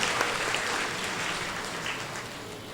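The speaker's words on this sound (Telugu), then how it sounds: "వారందరికీ మీ యొక్క చప్పట్లతో అభినందనలు తెలియచేద్దాం" A church congregation at an annual feast of Saint Anthony in Mettuguda applauds the priests, a dense, steady burst of clapping from a large crowd filling the whole moment.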